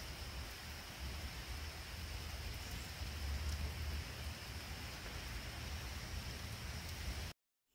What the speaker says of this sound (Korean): 이렇게 비가 오는 날에는